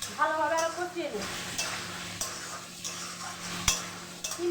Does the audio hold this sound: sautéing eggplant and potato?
yes